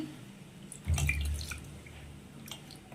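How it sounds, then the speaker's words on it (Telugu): Water poured into ragi dosa batter in a kitchen, a short soft splash and trickle rising over a low background hum, with faint drips afterward. "చూడండి ఇంకొద్ది వాటర్ వేసుకుందాం"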